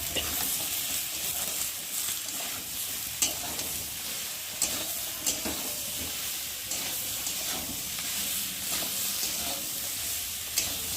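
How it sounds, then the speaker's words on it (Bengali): Ridge gourd fries in oil with spice paste for a fish curry and is stirred. A continuous bright frying hiss is punctuated by periodic scraping and clacking stirring strokes, close and fairly loud, with no talk. "ঝিঙেটা মশলার সাথে ভালো করে একটু কষিয়ে নেবো"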